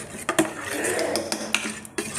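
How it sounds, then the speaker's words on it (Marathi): Cooked dal from a pressure cooker is mashed with a utensil, giving sharp metallic clinks and scrapes against the pot at an uneven pace over a soft background. "डाळ अगोदर छान हटवून"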